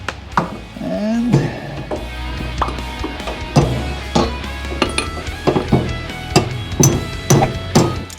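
A hammer bangs on a Matco tool box being restored, giving a series of irregular sharp metallic knocks and clanks, close and loud, with a low background hum between strikes.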